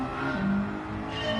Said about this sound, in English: I've got engine noise